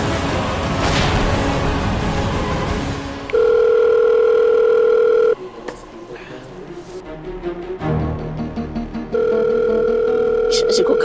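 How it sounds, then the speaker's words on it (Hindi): An outgoing call on a phone in a Hindi TV drama scene rings out in two steady, loud tone bursts, each about two seconds long, with other sounds and voices in the gaps between them. "फोन लगा रहा हूँ, फोन क्यों नहीं उठा रही है?"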